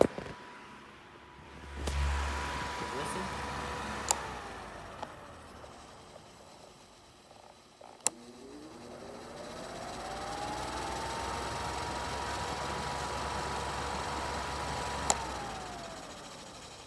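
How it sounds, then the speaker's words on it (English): A new Lasko pedestal fan motor runs with a steady low hum and a whine that rises and settles, with a few sharp clicks along the way; no one talks. "I don't know if this matters, how the motor sounds. I'm gonna listen."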